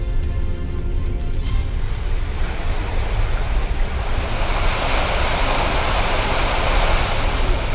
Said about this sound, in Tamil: மேற்கு தொடர்ச்சி மலையில் பெய்யும் கனமழையால் நெல்லை மாவட்டம் களக்காடு தலையணையில் வெள்ளம்.